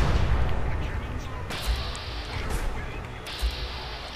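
Cannons aboard the USS Constitution firing in Fallout 4, loud booming blasts with a heavy rumble, one large volley at the start, then two more sharp reports spaced about two seconds apart.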